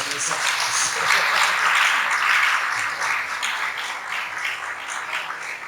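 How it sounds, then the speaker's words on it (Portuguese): An audience bursts into sustained applause, a dense wash of clapping that swells and then gradually thins out over several seconds. "Salve de palmas aí para esses caras"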